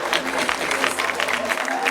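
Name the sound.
audience applause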